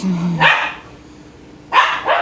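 A dog called Howie gives a few sharp barks, one near the start, then a quick pair after a short quiet gap, fairly close and loud.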